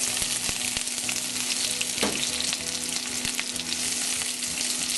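Onion sautés in hot cooking oil in a pan for ginisang Baguio beans with pork, a loud, steady, close crackling sizzle that fills the whole stretch, with occasional clicks of a utensil stirring and no voices.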